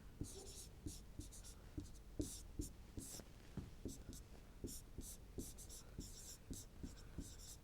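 Pen strokes on paper or a board scratch in quick repeated bursts while a teacher explains Python code, with soft talk underneath and faint taps marking each stroke.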